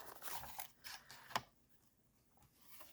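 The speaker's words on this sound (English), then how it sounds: "And I'm actually going to go ahead and cut off this folded bit here too." Scissors snip through a printed cardboard cover in a few quiet cuts, with one sharp crisp snap midway, close and faint in a still room.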